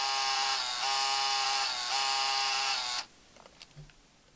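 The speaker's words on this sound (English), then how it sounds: "Also, there is the Game Boy printer, so if you want to print the pictures," A Game Boy Printer runs for about three seconds, a loud, steady electric buzzing whine pulsing in short repeated passes before it cuts off, leaving a few faint clicks.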